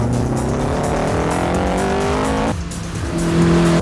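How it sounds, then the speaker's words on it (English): A Mugen-tuned sports car engine roars loudly and steadily under full throttle in third gear, its intake induction note rising in pitch, briefly dropping with a gear change, then climbing again. "You get a fantastic induction noise from the intake here"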